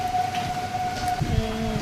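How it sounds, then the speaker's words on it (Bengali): A passing train's whistle sounds as one long steady tone from a distance during a windy rainstorm, with rain pattering throughout and a brief thump near the end. "দেখছি হুইসেল পাচ্ছি ট্রেন যাচ্ছে"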